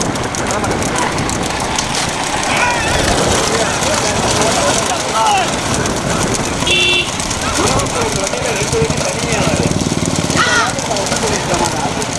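A tractor engine drones continuously up close at a bullock cart race, a steady mechanical rumble with people talking over it.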